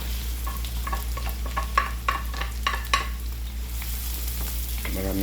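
Sliced onion fries in a pan for duck adobo in coconut milk, giving a steady sizzle with repeated scraping stir strokes at close range over a low constant hum, and a louder scrape near the end.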